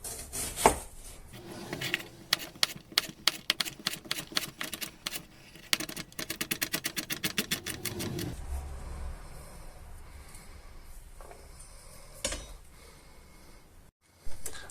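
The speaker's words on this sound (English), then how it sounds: "chopping a bit of onion up" A knife chops onion on a board in a home kitchen, a rapid run of crisp, close taps that speeds into a dense flurry before giving way to quieter handling noise.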